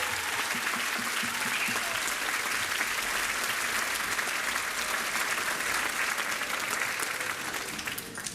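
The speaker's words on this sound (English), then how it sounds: "Give them another big round of applause." Audience applause following an elementary school 4th grade band concert, sustained and steady clapping from a full crowd for about eight seconds, tapering slightly at the end.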